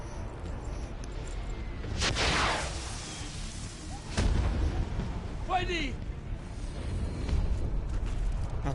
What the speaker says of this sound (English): they appear to be firing mortars